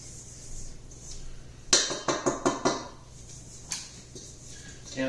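Pasta dough ingredients are mixed in a bowl, a quick run of five or six hard clinking scrapes against the bowl, then a lone knock and another clatter at the end over faint background.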